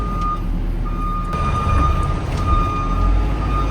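On a South Yorkshire cattle farm, a truck tipping off a load of cattle feed mix sounds steady repeated reversing beeps over a loud, continuous low engine rumble nearby.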